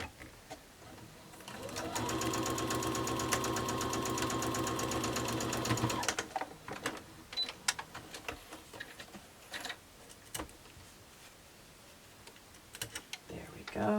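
A sewing machine stitches over a pressed fabric seam in a steady, rapid run of about four seconds, then stops, followed by quieter handling noises and a voice talking.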